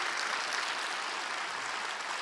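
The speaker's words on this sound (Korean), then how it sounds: "우리 인사 박수로 우리 다시 한번 감사의 마음 전하겠습니다." A congregation claps in a chapel service at a Methodist theological seminary, dense steady applause filling the room evenly for a couple of seconds, moderately distant and without speech.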